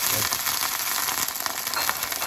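Clams and wine sizzle steadily in a pan with a bright, crackling hiss that stays loud throughout, with no speech.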